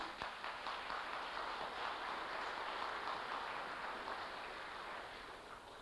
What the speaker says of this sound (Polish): brawa również